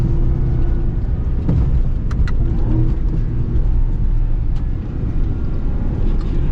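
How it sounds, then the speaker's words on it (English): A Ram TRX pickup truck tears along off-road with all four wheels spinning, its loud, constant engine roar and rumbling road noise close by, with scattered thuds and rattles. "We literally are spinning all four wheels, which is obviously tons of fun."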